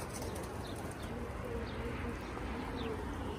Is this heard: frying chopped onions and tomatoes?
no